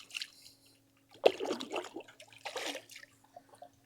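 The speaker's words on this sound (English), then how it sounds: "I'm gonna rinse my measuring cup out" Water splashes and trickles briefly into a measuring cup as it is rinsed out beside a pool, in two short close bursts with a quiet pause between them.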